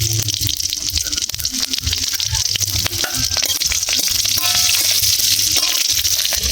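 Green chillies and whole cumin sizzle steadily in hot ghee as tempering for white ghugni, a dense, continuous frying crackle with occasional stirring clinks, close and loud throughout.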